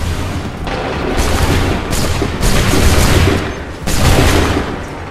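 Musket volleys boom during the Battles of Lexington and Concord in Assassin's Creed 3, with several loud, close fusillades crackling one after another over a steady roar of battle.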